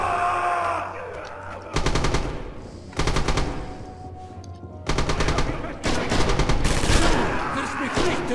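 Machine gun bursts in the WWII shooter Red Orchestra 2 at Stalingrad, several loud sustained automatic volleys separated by short pauses, with battle noise continuing between them.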